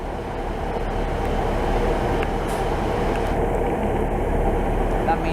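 A Class 67 diesel locomotive idling at a station platform, a steady low engine rumble with constant mechanical drone, close and continuous, with faint station ambience above it.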